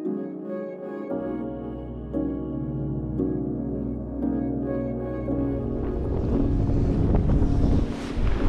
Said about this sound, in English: Man, that's some good wind.